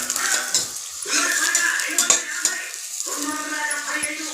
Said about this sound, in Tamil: இந்த ஆனியன் நல்ல ஒரு கோல்டன் ப்ரௌன் கலர் வர வரைக்கும் வதங்கணும்.